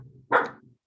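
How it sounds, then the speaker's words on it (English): One quick dog bark at moderate distance, fairly quiet, standing alone against a faint low background hum. "That is my dog"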